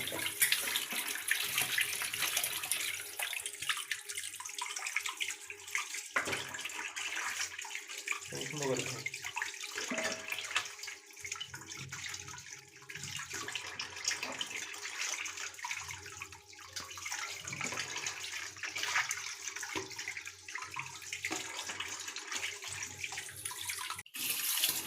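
A kitchen tap runs steadily while freshly cut chicken pieces are rinsed, with a continuous hiss of running water that shifts now and then as the meat is handled.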